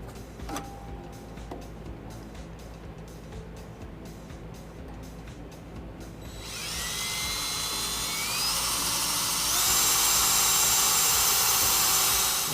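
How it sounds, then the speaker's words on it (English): Power drill boring a pilot hole for a front-mount trailer hitch on a 2014 Ram 1500, a faint whine at first, then a loud, sustained high-pitched drilling drone that rises in pitch and intensity. "Now we have our pilot hole drilled."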